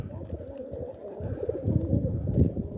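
Racing pigeons in a loft coo in soft, throaty, repeated bursts close by, building in volume toward the end, while someone talks over them.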